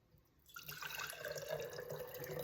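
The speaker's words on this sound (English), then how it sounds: "I'm gonna pour 1/2 of this into the jar," Liquid poured into a jar, a steady splashing trickle that begins after a short quiet moment and continues close and moderately loud to the end.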